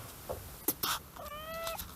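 A cat in a garden gives one clear, drawn-out meow near the end, after a few soft rustles and thumps, all faint in a quiet outdoor space.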